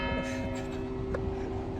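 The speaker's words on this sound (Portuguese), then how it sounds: "A cada 15 minutos tem um sino badalando na cidade, isso é normal." A church bell rings in a Portuguese city, a steady sustained tone hanging over faint background noise at a moderate distance, with no speech.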